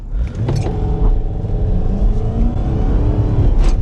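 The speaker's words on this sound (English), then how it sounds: "I'm gonna do one spirited acceleration pull here" A Lincoln LS V8 pulls hard in first gear with traction control off: a loud engine roar rises steadily in pitch over a few seconds, heard from inside the cabin, with no talk.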